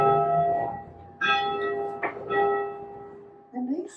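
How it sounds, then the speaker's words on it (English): The original bell of a historic United Church in Nova Scotia, a bell 50 years older than the building, rings with sustained tonal clangs: three or four strikes with long ringing decay, fairly close and moderately loud. "This bell is the original bell to the United Church."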